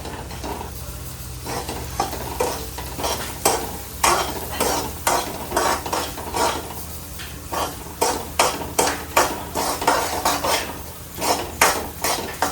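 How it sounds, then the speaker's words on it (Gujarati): Wheat flour roasting in hot ghee for sheera in a kitchen pot, with a spoon scraping and clinking against the metal in a steady repeated rhythm over a soft continuous sizzle, close and fairly loud. "હવે જેવું ઘી ગરમ થશે ને એટલે આયરું નાખી દેવાનું. આ ભેળકું છે ભાઈ ઘઉંનું એ નાખી દેશે."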